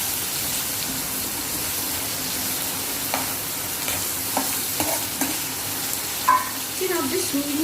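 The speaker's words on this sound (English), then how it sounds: "We'll fry the capsicum." Capsicum stir-fried over a high flame in a pan, a constant sizzle broken by sharp spatula scrapes and knocks that grow busier toward the end, with no one speaking.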